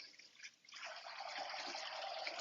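Chicken soup, about 15 quarts, is poured off from a heavy pot in a steady, splashing liquid stream that builds after a brief softer start and continues quietly without pause.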